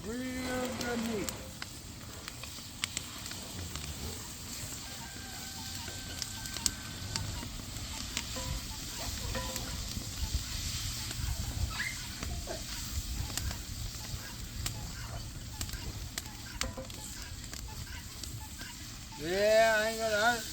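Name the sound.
meat sizzling in grease in a pan over outdoor fire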